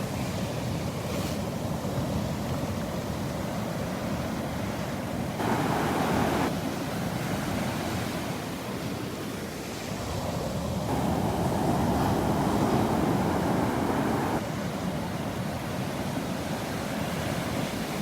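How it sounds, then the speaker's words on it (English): Big ocean waves roar onto a beach in Naples, Florida, a loud continuous surf wash that swells and recedes in several surges, close by and without speech. "Here comes some big waves."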